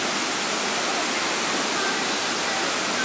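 Durian Perangin waterfall in the Langkawi jungle, Malaysia, roaring as a dense, steady broadband rush of falling water, close and loud and unbroken throughout, with no voices.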